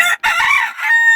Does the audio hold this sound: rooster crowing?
yes